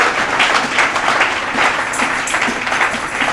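A church congregation applauding and cheering in praise during an evangelist's sermon, a steady dense wash of clapping and crowd noise sustained throughout without pause.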